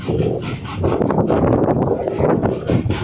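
Strong wind of a storm roaring and buffeting the microphone in a loud, continuous, gusting rumble.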